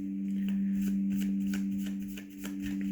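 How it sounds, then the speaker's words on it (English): Tarot cards are shuffled close up in rapid riffling bursts, soft papery flicks repeating over a steady loud electrical hum. "I'm just shuffling the cards."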